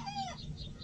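A chicken clucking close by on a countryside fishing spot in Vietnam, a single short rising-and-falling call under less than a second of steady outdoor background noise.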